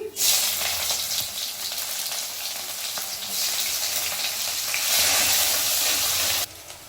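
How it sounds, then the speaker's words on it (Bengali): Chopped onion frying in hot oil with bay leaf, dried red chilli and cumin, a loud continuous sizzle that swells and fades before dropping away near the end. "পেঁয়াজটা একটু হালকা ভেজে নিয়েছি।"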